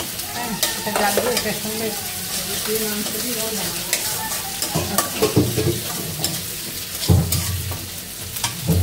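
Spiced vegetable curry sautéed in a pan with ginger-garlic paste gives continuous sizzling, with frequent spoon scrapes and stirring strokes up close, and a voice speaking at times over the cooking.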